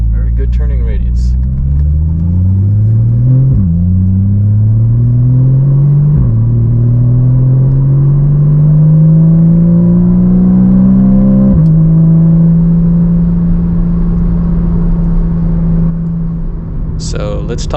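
A Porsche 981 Cayman S with PDK transmission driving and turning, its engine note rising smoothly through several gear changes with brief dips at each shift, loud and close from inside the cabin, settling into a steady drone.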